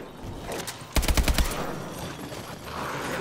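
A short burst of rapid automatic gunfire rings out in Advanced Warfare Exo Zombies, about half a second of loud close shots in a quick string, over a low game background.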